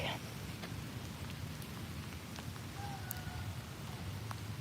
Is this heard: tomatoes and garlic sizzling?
no